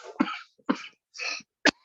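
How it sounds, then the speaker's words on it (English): A man coughs four times in short, separate bursts, each harsh and fairly loud, with brief silences between them and no talk around. "You know your uncle here has a big cough"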